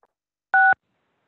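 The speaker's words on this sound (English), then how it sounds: "it looks like the next comment is a, a phone in, Sean." A single short telephone keypad dial tone sounds as a caller phones into a public board meeting, clear and alone in otherwise silence.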